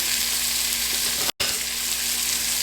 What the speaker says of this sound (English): So you can just cook this onion here.